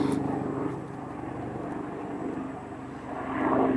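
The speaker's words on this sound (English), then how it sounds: "I don't even know where the helicopter is" Low, continuous engine drone of a helicopter passing overhead at a distance, swelling slightly toward the end, with no voices.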